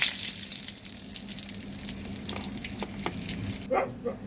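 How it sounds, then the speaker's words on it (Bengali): Whole garam masala spices sizzle in ghee and oil in a home kitchen, a steady close hiss of frying that runs throughout with a few louder crackles and pops toward the end. "এবার গোটা গরম মশলা ফোড়ন দেব"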